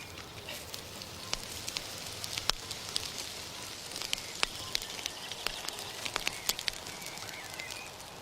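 A garden bonfire lit with matches crackles and pops in sharp irregular snaps over a soft steady hiss, moderately close and fairly quiet.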